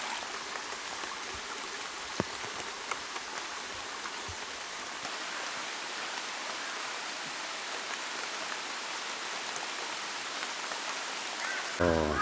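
Steady rain falls in a forest campsite beside a shallow valley stream, a dense even hiss of drops on leaves and surfaces. A few sharper taps stand out and a brief clatter comes at the very end.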